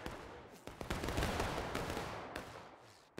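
Rifle volleys crack and roll through a Civil War-era town street in War of Rights, dense overlapping musket fire with a few sharper nearby shots over a constant rumble of distant gunfire.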